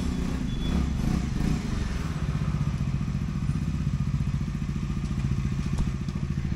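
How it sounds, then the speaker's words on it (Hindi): A motorcycle arriving, its engine a continuous low rumble with a steady throbbing idle close by, running without pause. "चलो बाइक भी आ गई अपनी"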